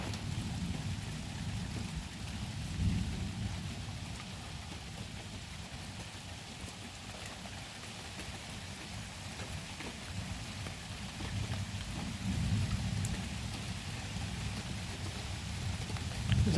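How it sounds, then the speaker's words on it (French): Steady rain hisses down during a thunderstorm, a continuous wash of drops with low rumbling swells at times, heard from a moderate distance with no one talking. "Vous entendez? Il pleut"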